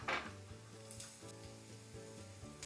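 Ingredients for carrot rice, with salt and turmeric added, sizzle steadily as they fry in a pan, a continuous close crackle with faint stirring scrapes and no talk.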